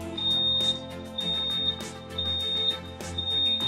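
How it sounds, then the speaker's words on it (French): Electronic beep signal from a LIQUI MOLY Gear Tronic II automatic gearbox cleaning machine marking the end of cleaning, a steady high tone repeating in several long pulses over a low mechanical hum. "Lorsque le nettoyage est terminé, un signal sonore retentit."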